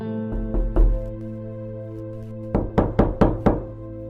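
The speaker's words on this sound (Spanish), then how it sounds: "Es así que Izuku tocó la puerta." Knuckles rap on a door in two bursts, three knocks, a pause, then five quicker knocks, each a close, hollow, resonant thud ringing out clearly with no voices.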